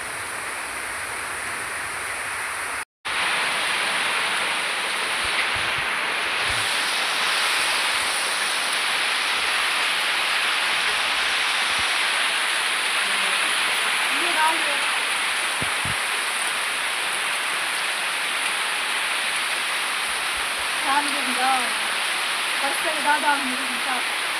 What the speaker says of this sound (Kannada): ಮಳೆಗೆ ಏನು ಕೂಡ ಕಾಣಿಸ್ತಿಲ್ಲ